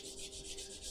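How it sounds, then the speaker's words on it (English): A worn, soft sanding sponge rubs over a painted resin scale model kit in quick, rhythmic strokes, a close, faint scratchy swishing with no speech over it. "use a very sort of worn, soft sanding sponge"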